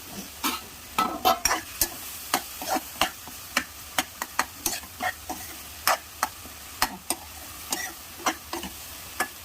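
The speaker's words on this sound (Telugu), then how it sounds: "ఇప్పుడు ఏం చేయాలంటే మొత్తం కర్రీ మొత్తం మిక్స్ చేసుకోవాలి" Bitter gourd and tomato curry being stirred in a pan, a run of sharp, irregular spoon scrapes and knocks over a low sizzle, close and fairly loud, thinning out toward the end, with no voices.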